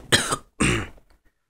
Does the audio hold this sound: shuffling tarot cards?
no